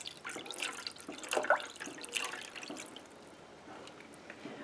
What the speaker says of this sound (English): Then I'm going to be adding a cup of water to this.